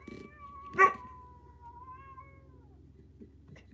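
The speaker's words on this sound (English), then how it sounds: "The cats are fighting." During a cat fight, one cat lets out a loud, drawn-out yowl that trails off, followed by faint rumbling in the background.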